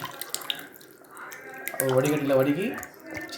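Tamarind water being strained and poured into a simmering prawn curry, a wet splashing trickle that swells for about a second in the middle of the clip, with what sounds like a voice briefly over it.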